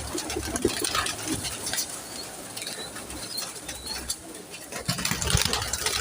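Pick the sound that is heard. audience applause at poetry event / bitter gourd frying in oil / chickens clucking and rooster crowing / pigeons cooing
pigeons cooing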